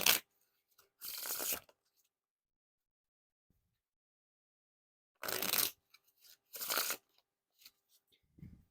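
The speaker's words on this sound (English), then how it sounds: "Now on to the riffle shuffle, or bridge shuffle." A deck of Gemini Gold Goblins playing cards gets riffle or bridge shuffled: four short, crisp riffling bursts in two pairs with quiet gaps, close and alone.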